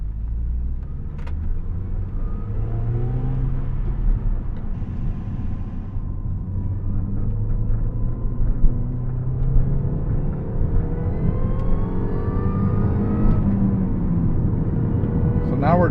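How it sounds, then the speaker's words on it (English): A supercharged 2005 MINI Cooper S (R53) on the road gives a steady engine drone with a thin, rising supercharger whine laid over the rumble throughout. "You can hear that supercharger whine."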